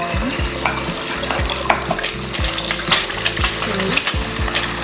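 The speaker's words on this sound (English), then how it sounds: "Now let the eggs fry a little bit." Two eggs fry in about two tablespoons of cooking oil in a pan for Thai shrimp basil fried rice: a continuous close, loud sizzle broken by repeated scraping strokes and clinks of a utensil against the pan.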